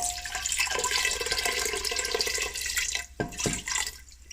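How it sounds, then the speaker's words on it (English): Homemade kombucha liquid pours into a glass jar in a steady, close splashing stream that breaks into a few separate glugs near the end, with no voices. "Then I'm going to pour half of the liquid in here."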